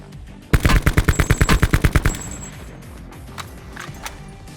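In the Call of Duty Blackout video game, the Can gun fires a rapid burst of about fifteen loud, close shots in quick, even succession, then stops, leaving quiet background game sound.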